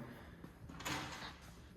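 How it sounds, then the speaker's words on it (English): A storage drawer on a Brain Ultimate M-Series TMS unit slides shut in one short indoor sound that swells into a brief soft thud near the middle, with no talking. "These can be placed in the storage drawer."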